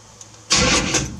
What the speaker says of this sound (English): Ooh, starter kicks in.